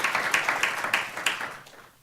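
Audience applause for a panelist at a panel event, a dense wash of many clapping hands that is steady at first and then fades out toward the end.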